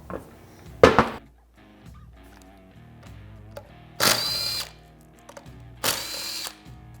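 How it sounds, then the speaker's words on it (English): A power tool spins out the bolts on the lid of a billet differential from a Polaris RZR, giving three short, loud, close bursts separated by quiet handling noises. "The first thing we're going to do is remove all the bolts holding the differential lid on."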